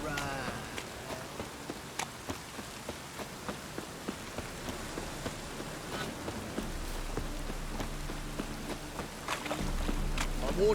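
Steady rain in The Witcher 3: Wild Hunt patters on a surface with scattered drip-like taps throughout, joined near the end by a low droning hum.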